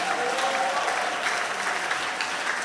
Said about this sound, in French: Acclamez fort le Seigneur.